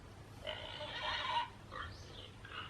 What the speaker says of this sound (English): Listen to the pigs in the mud